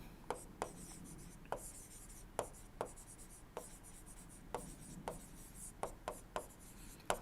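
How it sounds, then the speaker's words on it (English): Chalk or marker writing on a board during an engineering lecture, a steady series of sharp taps and scratchy strokes spaced irregularly, close and clear with no talking. "let me write here"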